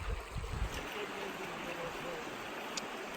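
The Gila River flows in a steady, soft wash of moving water on a hot day, heard close but fairly faint, with light splashing near the start.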